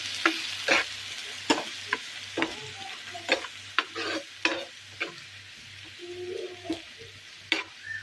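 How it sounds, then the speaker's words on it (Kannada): Sliced onions frying with ginger garlic paste in a pan, a soft background sizzle broken by repeated sharp scraping clicks of a spoon stirring against the metal, close and with no talk. "ಇಂದೆಲ್ಲ ಸೋಪು ನೀರುಳ್ಳಿ ರೊಟ್ಟಿಗೆನೆ ಫ್ರೈ ಆಡು"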